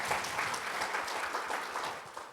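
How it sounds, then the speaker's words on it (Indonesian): Applause at a church service fills the space in a dense, steady patter of many hands clapping together, loud and close throughout the short burst. "Beri tepuk tangan."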